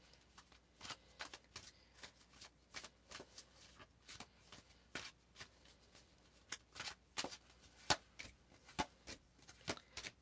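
Tarot cards being shuffled during a live reading, a string of soft, close riffling snaps and taps at an uneven pace, faint and with no talk.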